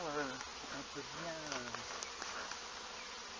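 Dense, steady buzzing of many honeybees close by at a hive entrance, a continuous droning hum with a few individual insects passing near.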